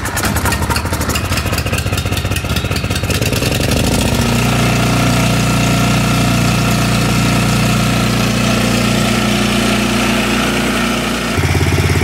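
A snowblower engine cranks a few times, then catches and settles into a loud, steady running drone, heard close, with a brief shift in pitch near the end.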